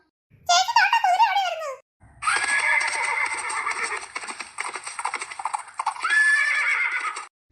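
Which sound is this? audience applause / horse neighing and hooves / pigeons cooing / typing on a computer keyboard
horse neighing and hooves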